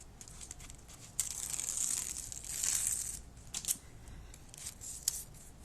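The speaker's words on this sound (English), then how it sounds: "Oops, I just ripped that piece of tape" Tape ripping while taping a border, with several sharp tearing and crinkling bursts, close and fairly loud, separated by short pauses, with no talking.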